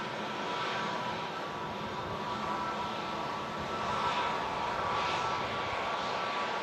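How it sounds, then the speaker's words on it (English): Air Portugal Airbus A321neo climbing out of Manchester Airport, a steady broad jet engine roar held at moderate distance throughout, with a slight swell partway through and no voices. "Air Portugal, A321neo just climbing out of Manchester there."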